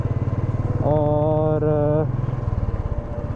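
A rented motorcycle rides through Jaipur at night, its engine chugging in a steady close rhythm while a high tonal horn-like whine rises over it midway, with brief speech.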